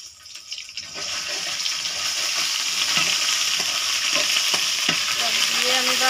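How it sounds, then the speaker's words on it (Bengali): Ground cumin, spice paste and green chilli paste sizzle loudly in hot oil, building from a quieter start into a continuous close fry with occasional scraping from stirring. "সব দিয়ে আমি ভালো করে কষিয়ে নেব।"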